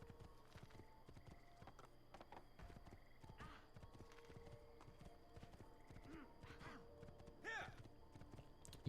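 Horse hooves clip-clop in Assassin's Creed 2 gameplay, a steady rhythmic trot at moderate level under a busy game soundscape with a brief whinny-like burst near the end; a voice talks faintly at times.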